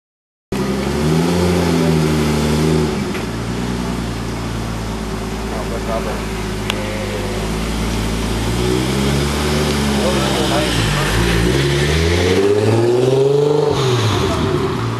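A car engine at a Lexus club Cars & Coffee meet in Hawaii revs loudly and steadily, its throaty pitch swelling and dipping for about fifteen seconds, with voices and background noise underneath.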